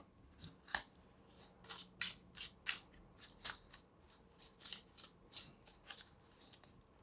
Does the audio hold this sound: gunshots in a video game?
no